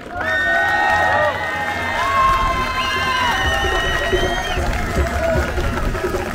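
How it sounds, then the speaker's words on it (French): A crowd at an outdoor rally in Montpellier cheers and whoops for healthcare workers, a loud, continuous mass of shouting and voices with some clapping running throughout. "je voudrais qu'on applaudisse tous les soignants qui sont là derrière moi"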